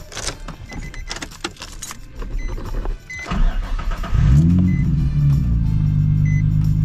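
A car engine starts up and settles into a steady low rumble, preceded by rustling and jangling of keys as someone climbs in.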